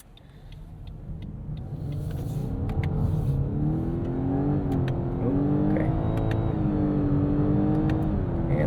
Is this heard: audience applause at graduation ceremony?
no